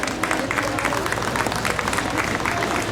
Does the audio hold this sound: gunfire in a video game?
no